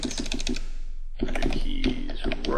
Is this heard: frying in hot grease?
no